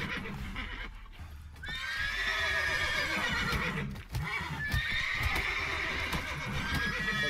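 Horses whinny in the video game The Witcher 3: Wild Hunt in long, wavering neighs, with a brief break before another drawn-out call, over a steady background hum and faint hoof clatter.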